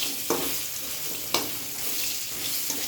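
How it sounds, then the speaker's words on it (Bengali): Potato and pointed gourd pieces fry in a pan with a steady sizzle. A few sharp scraping stirs cut in at irregular moments, and no one speaks. "আলু আর পটলগুলিকে এভাবে কেটে একটু ফ্রাই করে নিয়েছি"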